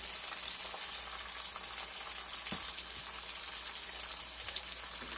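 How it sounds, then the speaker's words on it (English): Asparagus frying in oil and butter in a pan, a steady faint hissing sizzle with occasional small pops and crackles throughout. "I mainly want this asparagus to cook in butter."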